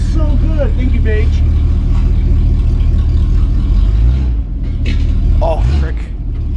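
A straight-piped Mini Cooper engine rumbles loud and close in a deep, steady drone, with brief revs rising and falling, while people talk excitedly over it.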